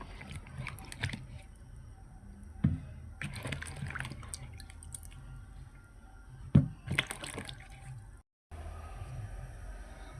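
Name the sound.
washing eggplant in water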